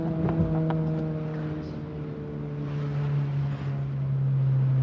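A manual-transmission car's engine drones steadily at high revs, a strong tonal hum with stacked harmonics that rises slightly in pitch and loudness toward the end, with faint wind buffeting and brief voices under it.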